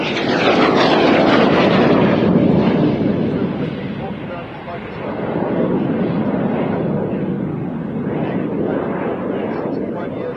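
An old propeller aircraft flies past, a loud continuous engine roar that swells, dips briefly and builds again, heard from outdoors with a broadband rushing quality and no clear talking.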